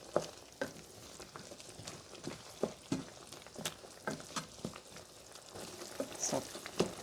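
Food with fish seasoning is stirred in a pan, with soft irregular scrapes and taps over a faint sizzle, close and quiet, and no voices.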